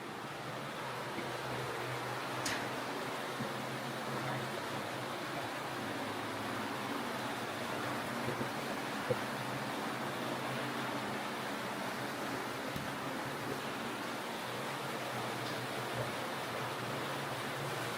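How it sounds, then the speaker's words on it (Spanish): Spring water gushes inside Hezekiah's tunnel in the City of David, Jerusalem, a steady, loud, enclosed roar that carries on without pause and is not broken by any voices. "Hay bastante ruido ahí dentro, pero al menos van a poder ver de dónde brota el agua"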